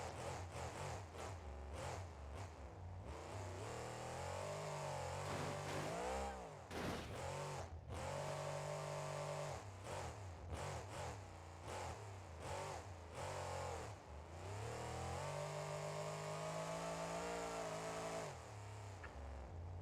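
A monster truck engine in the BeamNG.Drive video game revs repeatedly and shifts gears, with the pitch climbing, dropping and climbing again through rapid shifts, loud and continuous with no talk.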